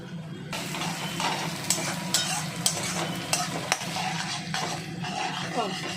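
Onions fry in a pan for a methi chicken kadai curry, with a continuous close sizzle and regular clinks and scrapes of a utensil stirring against the metal, and no talk.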